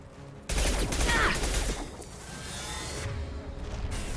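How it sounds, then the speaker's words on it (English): Weapon fire and combat effects from the Mass Effect video game, a barrier gun blasting in a loud burst that starts abruptly and continues as a dense, sustained roar of shots and mechanical noise. "We should use the barrier gun to take the barriers down."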